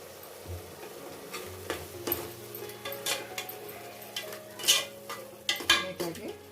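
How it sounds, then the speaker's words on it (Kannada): Ground masala paste fries in oil for a fenugreek-leaf pulao while a spoon stirs it, so soft sizzling runs under repeated scrapes and metallic clinks against the pan at an irregular pace. "ಎಣ್ಣೆಯಲ್ಲಿ ಮಸಾಲೆನ ಫ್ರೈ ಮಾಡ್ಕೋಬೇಕು."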